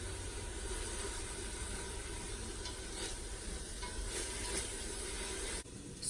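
Tomato juice and oil sizzling in a pan while cooking, a steady soft hiss of frying that runs continuously with faint crackles and no talk.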